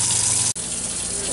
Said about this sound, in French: On la passe en dessous de l'eau fraîche